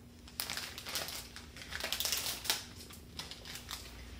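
A bag of shredded almonds is cut open with scissors in a home kitchen, making soft, close crinkling and crisp snipping sounds in quick irregular bursts at low volume.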